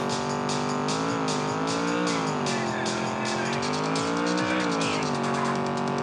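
Racing engine in San Francisco Rush Alcatraz Edition drones steadily with rising and falling revs, loud and continuous, mixed with high-pitched whine and occasional tire squeal.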